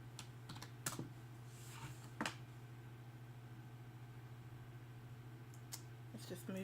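A computer keyboard is typed on while entering a VLOOKUP spreadsheet formula, giving scattered quiet key clicks with a few sharper taps over a steady low electrical hum.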